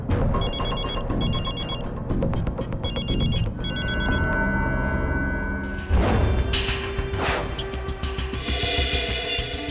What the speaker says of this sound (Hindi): तारिका फोन क्यों नहीं उठा रही?